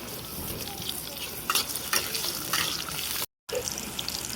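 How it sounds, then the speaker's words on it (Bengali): Onions and green chilies fry in a pan with cumin, a soft sizzle under a few scraping stirs from a spatula, with a brief cut near the end; no one speaks. "যে পেঁয়াজটা ভাজা হচ্ছে লাল লাল হয়নি লাল লাল হবো আর একটু নাড়া নিব"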